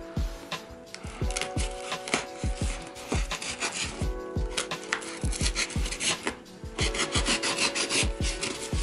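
Cardboard parcel being cut and torn open with care, giving a run of scraping, rasping rubs and small knocks close by, with no talking.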